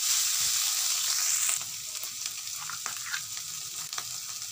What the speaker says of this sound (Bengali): আমি সর্ষে, তিল, লঙ্কা বাটা সবটাই দিয়ে দিয়েছি।